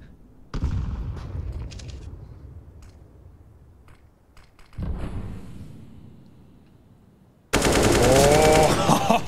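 Automatic rifle sprays fire in a Counter-Strike: Global Offensive pro match on Dust 2, with short rattling bursts early, another burst midway, then a loud sustained volley near the end, caster voices faintly underneath.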